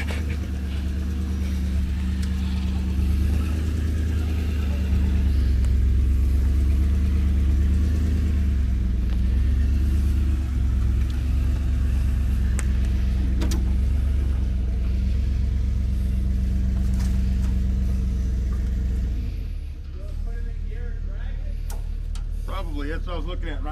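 A 1930s Allis-Chalmers tractor engine runs in a field, a loud, close, steady low rumble with a few rises in revs. It continues throughout, and voices can be heard over it.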